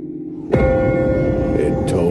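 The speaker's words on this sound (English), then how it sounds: "Ask not for whom the bell tolls." A single loud bell strike at a half-second in, then a long sustained ringing tone that hangs over a low rumble, as a bell tolls in a Walking Dead trailer.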